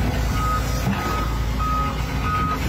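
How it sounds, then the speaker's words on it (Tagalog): A backhoe rumbles steadily at close range while a high reversing beeper sounds at regular intervals. "Tahimik ang paligid at ang tanging maririnig lang, ingay ng backhoe."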